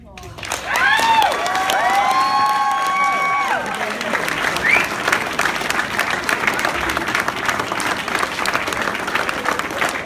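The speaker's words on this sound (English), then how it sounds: "a big round of applause for your best man" Wedding guests clapping for the best man, loud continuous applause mixed with whoops and cheering, high shouted voices rising over the clapping early on before settling into steady applause with crowd noise.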